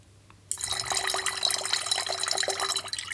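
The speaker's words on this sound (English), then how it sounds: "I'm going to add what seems like a tiny amount of water, but just 25 grams" A small measured amount of water, about 25 grams, is poured into a coffee amaro mixture, a steady close trickle that starts abruptly and runs on without a break, with no talking over it.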